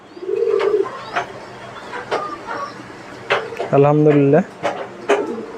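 Pigeons coo in a farm loft, including ice-faced running pigeons with a chick, giving a few low throaty coos among clicks and shuffling while someone speaks briefly.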